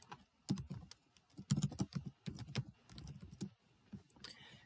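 A password being typed on a computer keyboard in a quiet room: short clusters of soft key clicks with brief pauses between bursts, close but faint, and no talking.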